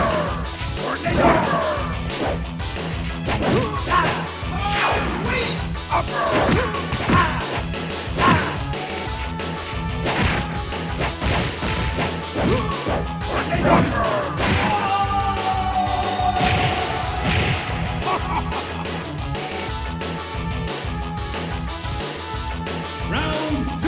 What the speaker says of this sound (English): there are some great crushing sound effects that really give the hit some weight